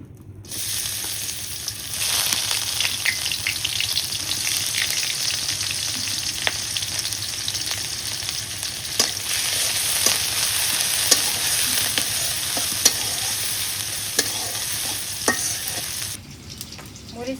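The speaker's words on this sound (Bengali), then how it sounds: "কড়াই দিয়ে না এখন মাছগুলো ভুনা করি।" Hilsa fish fry in a wok with a loud, steady sizzle and crackle, with occasional stirring scrapes and no talking.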